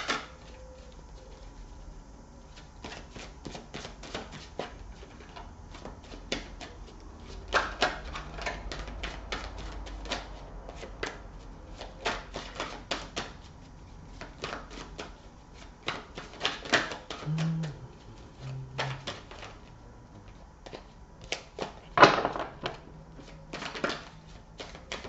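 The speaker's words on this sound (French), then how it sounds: "je vais poser mes cartes" Tarot cards laid down on a table, soft scattered taps and clicks over a quiet room, irregular and close, with an occasional brief murmur.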